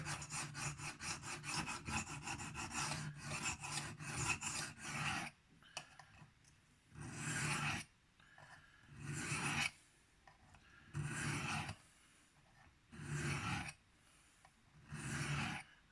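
A Spyderco Byrd Robin 2 knife is reprofiled freehand on diamond stones. A fast run of rhythmic rasping strokes gives way to slower separate scrapes, each lasting about a second, heard close up.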